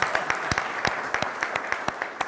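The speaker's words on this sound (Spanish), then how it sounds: "Un fuerte aplauso para Alberto." An audience applauds after a speaker at a forum on water-sector trades, a crisp scattering of individual claps from a modest crowd, fairly close and steady for a couple of seconds.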